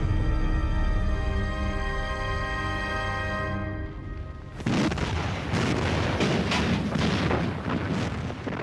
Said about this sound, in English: Allied battleships begin a full-scale bombardment of the German positions.